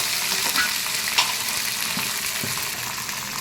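A tempering of curry leaves and coriander fries in hot oil for rasam, a continuous close sizzle with a few faint stirring knocks and no talking.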